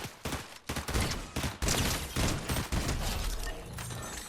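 Gunfire in Fortnite, played on a PC with a Ryzen 5 3600 and RTX 2060, heavy overlapping bursts of shots and blasts that come in close succession, loud and continuous for several seconds.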